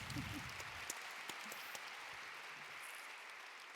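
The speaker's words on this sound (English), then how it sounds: "let's have a round of applause." Faint, distant applause from a small audience, a brief patter of clapping that quickly fades under quiet room tone.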